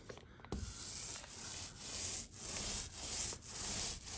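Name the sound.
foam paint roller rolling on a door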